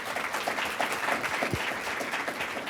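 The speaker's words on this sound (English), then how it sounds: "A round of applause." Audience applause during a drag performers' talk show, a steady wash of clapping held at moderate level for a few seconds with no talk over it.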